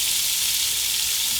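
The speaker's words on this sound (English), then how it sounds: "I am just going to saute these just a little bit" Onion sautéing in leftover bacon grease with crispy bits in a pan, a steady, close, even sizzle of frying that holds without a break.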